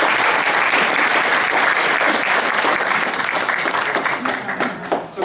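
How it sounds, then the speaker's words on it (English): An audience at a hair styling presentation applauds for a stylist, a dense, steady wash of clapping that holds loud and close before thinning and tapering off near the end. "Big applause to Ruben Smith."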